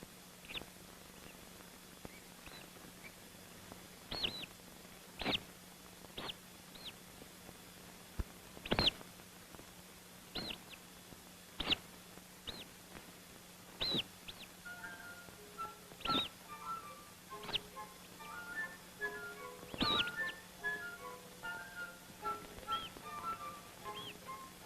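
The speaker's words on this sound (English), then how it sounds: "we put a microphone there so that we can hear and see a young oyster catcher working its way out of the shell" An oystercatcher chick hatching from its egg makes faint, scattered tapping and scratching clicks at an uneven pace under a low steady hum, with soft high peeping calls in the later half.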